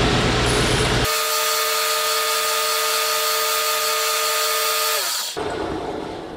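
A 36-grit abrasive grinds tooth into a steel fender washer: a loud, steady, close-up rasp with a high whine that lasts about four seconds, then winds down and stops. No one talks.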